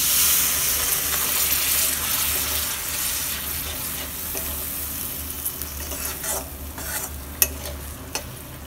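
Water poured into a pan of frying egg gravy sets off a loud, steady hissing sizzle that slowly settles, with a few light clinks of a stirring utensil near the end.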